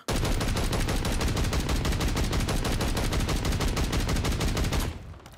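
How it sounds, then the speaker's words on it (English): The Sidewinder gun in Call of Duty Modern Warfare 3 fires a sustained, loud rapid-fire burst of close shots lasting about five seconds, then stops suddenly, leaving a faint tail. "So this is the Sidewinder in Call of Duty Modern Warfare 3."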